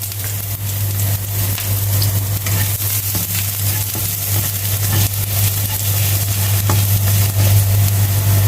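Garlic sizzling and frying steadily in a pan for pork afritada, a loud continuous crackle with occasional stirring scrapes and a constant low hum underneath.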